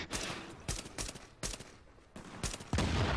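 Bursts of gunfire in the video game The Division crack out in about six sharp volleys, loud and close, with short gaps between them.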